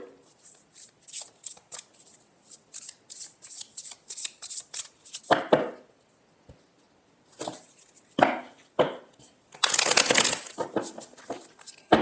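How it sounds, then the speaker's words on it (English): Tarot cards shuffled by hand, crisp riffling bursts in quick rhythmic flurries close up, with brief pauses and a longer burst near the end; faint speech now and then. "I feel like I want to pull maybe one more card"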